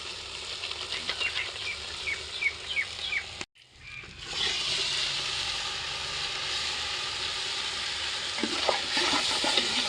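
Ginger, garlic and chili powder fry in a hot pan with a steady crackling sizzle and a few stirring scrapes, broken by a brief near-silent gap before the sizzling resumes.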